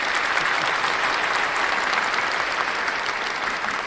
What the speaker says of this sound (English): I guess we've got to give that a round of applause as well